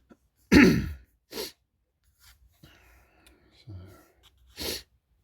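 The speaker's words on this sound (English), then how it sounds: "I'm having a bit of a sneezing fit there." Two or three sharp, close sneezes in quick succession, followed by sniffs, light breathing and small shuffling noises in a quiet room.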